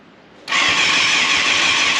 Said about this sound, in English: we'll turn it over, crank it over, see what happens